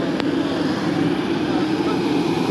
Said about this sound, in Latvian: Viņš laikam skriesies ar šito lidmašīnu, kas tur lido tā dzeltenā